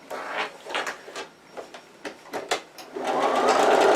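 A sewing machine stitches a double back stitch through a laptop bag in short bursts of needle clatter with brief pauses, then settles into a steadier run at the end, close and fairly loud, with no talking.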